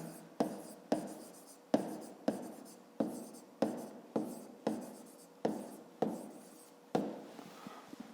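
A pen writes on paper in a fifth-grade maths exercise, making nine or ten close, distinct strokes at an even rhythm, each with a sharp start and a short rubbing tail, and no voices.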